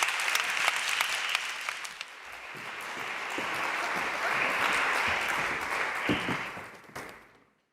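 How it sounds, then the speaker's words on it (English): Conference audience applause for two speakers at an annual conference in Padua, a dense, sustained clapping that swells slightly in the middle and then fades out over the final second. "Thank you very much, with an applause."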